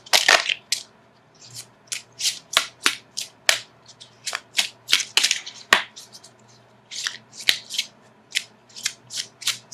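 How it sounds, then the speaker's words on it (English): Tarot cards are shuffled in a run of quick, crisp riffling bursts, each short and snappy, repeating unevenly at close range with no talking. "So let me shuffle for an outcome card."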